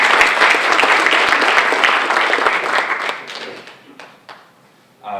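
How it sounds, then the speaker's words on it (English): A conference keynote audience claps loudly in a dense, sustained burst for about three seconds, then the applause thins into scattered individual claps and fades, with a brief murmur rising at the very end. "Give them a great round of applause."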